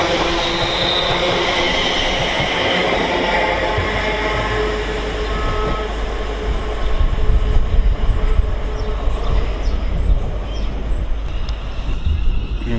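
A London Northwestern Railway Class 350 electric multiple unit rolls through Stafford station on the West Coast Main Line, a steady loud rumble of wheels and motors that swells and grinds over several seconds, with no talk.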